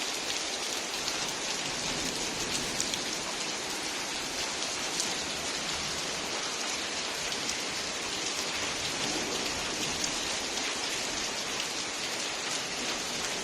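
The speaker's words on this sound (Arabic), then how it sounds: "مطر عالي عالي" Heavy rain during a downpour with flooding in Qamishli pours down as a dense, unbroken roar of drops hitting surfaces, steady and close throughout, with no voices.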